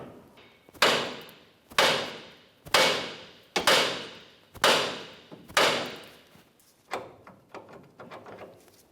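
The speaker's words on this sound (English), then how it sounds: "I'm just going to go ahead and continue with a hammer" Repeated heavy hammer blows strike a steering knuckle to free the outer tie rod end on a 2004-2015 Nissan Titan, about eight sharp metallic hits roughly a second apart, close and loud, with the last few lighter.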